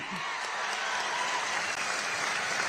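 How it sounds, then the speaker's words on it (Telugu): Audience applause at a public address, a dense, steady wash of many hands clapping that holds at an even, loud level from start to finish. "గట్టిగా చప్పట్లు కొట్టి ఆశీర్వదించండి"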